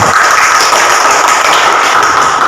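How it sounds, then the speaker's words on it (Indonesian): Classroom applause from elementary school pupils during a lesson, a dense steady patter of many small hands clapping at once, fairly loud and close, lasting the whole moment without a break. "Coba berikan tepuk tangan."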